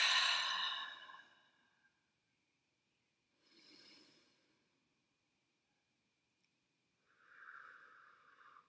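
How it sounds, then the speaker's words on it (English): Slow, deep breathing up close, a long airy exhale followed by two softer breaths separated by near silence, calm and unhurried. "take a few deep breaths with me"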